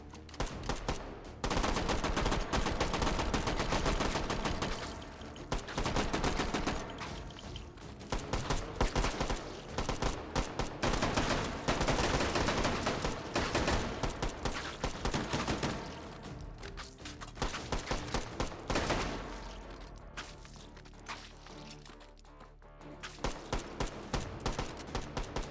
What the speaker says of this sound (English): I'm just winding up my grease gun.